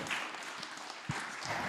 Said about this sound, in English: Big round of applause for Mattia